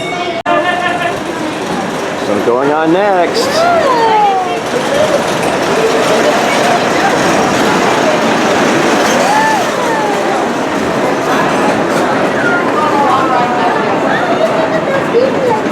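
An amusement park train pulls in at Knoebels in Elysburg, Pennsylvania, its wagons giving a steady clattering rumble under a busy crowd, with people talking close by and a brief whistle-like squeal early on.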